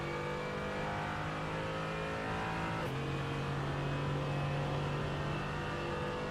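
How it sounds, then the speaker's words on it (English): A V8 GT4 race car in the iRacing sim at Virginia International Raceway roars steadily at full throttle, with a loud sustained engine drone and a brief gear change near the middle, climbing uphill. "Falcon now back on full throttle and we get to hear the lovely roar of that V8 engine."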